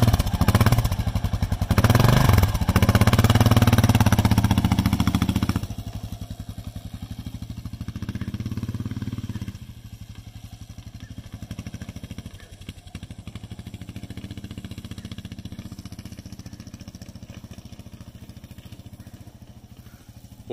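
A carbureted Kawasaki KLR motorcycle runs with a loud, low engine drone that drops after a few seconds into a quieter steady rumble with wind noise and clatter.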